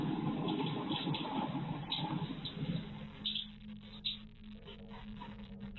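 A bathroom tap turns on under a surveillance camera, giving a faint, steady rush of running water that later thins to a quieter trickle, all heard through a low-quality, muffled recording.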